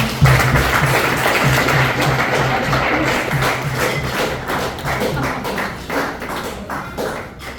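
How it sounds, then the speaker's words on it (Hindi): Loud applause for a top-scoring student being honoured after board exams, a dense, continuous roar of clapping from a gathered group, close and steady throughout. "हुमैरा के लिए एक बार जोरदार तालियां।"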